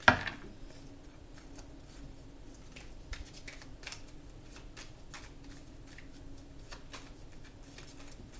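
Tarot cards being shuffled and drawn give soft, close papery flicks and riffles, scattered irregularly and faint over a quiet room with no speech.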